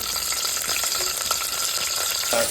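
Mustard seeds and curry leaves crackle and sizzle in hot coconut oil, a close, continuous frying hiss with small popping spatters and a stirring scrape near the end.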